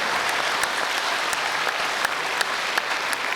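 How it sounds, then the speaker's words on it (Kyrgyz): Steady, dense audience applause fills a live Kyrgyz akyn comedy performance, continuous and fairly loud with scattered sharper claps throughout. "Кол чаап койсоңор жараша берет."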